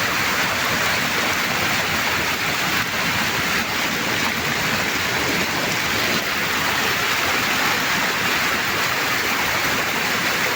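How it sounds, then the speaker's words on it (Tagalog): Rushing floodwater roars steadily and loudly during Typhoon Carina, a dense continuous wash like heavy rain and fast-flowing water, with no voices. "Ganito kalakas ang tubig."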